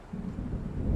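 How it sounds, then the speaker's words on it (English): Low rumbling thunder from an approaching storm in the video game Alan Wake Remastered, a steady dull roll that swells slightly over one second with no voices. "It seems there's a storm coming."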